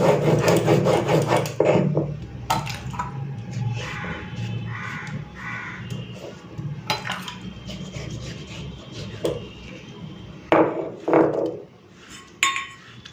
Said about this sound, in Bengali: তো বন্ধুরা, এখন এই ভাজা জিরেটা বেটে নেব